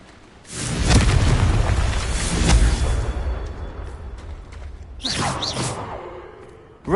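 A Confringo explosion spell goes off in a video game: a rumbling boom swells and lingers for a few seconds, followed by a whooshing burst with swirling tones and a sharp hit at the end.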